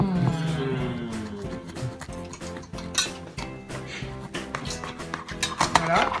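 Metal utensil scraping and knocking against a baking dish while slicing a finished home-baked mizza, a pizza-like dish, with repeated clinks and clatters building in density toward the end; someone talks faintly at the start.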